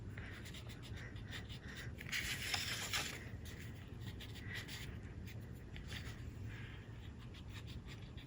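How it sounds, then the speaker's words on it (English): Kneadable eraser rubbing pencil lines off paper: soft, close scratchy strokes repeating steadily, with a denser burst of rubbing partway through, no talking. "Take my kneadable eraser and erase those pencil lines now."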